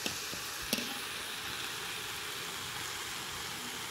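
Carrots, potatoes and onions fry in a pan with a soft, even sizzle heard up close, quiet and continuous, broken by a couple of small clicks near the start.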